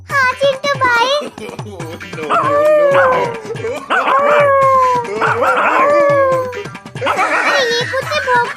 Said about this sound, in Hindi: अरे ये कुत्ते भौंक क्यों रहे हैं?